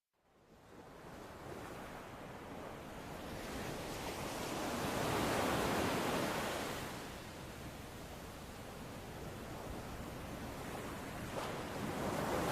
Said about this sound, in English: We've got a fairly stiff wind and a choppy sea.